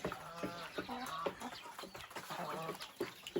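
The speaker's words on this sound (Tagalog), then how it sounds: "So ayan ang mga manok sila." Several chickens cluck repeatedly in short overlapping bursts, fairly quiet and steady, like a flock milling about nearby.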